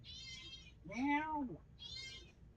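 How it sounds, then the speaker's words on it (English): Several cat meows, loud and close, with a couple of shorter high-pitched calls before and after, set over low background game noise. "My cat is just meowing."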